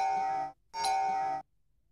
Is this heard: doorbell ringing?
yes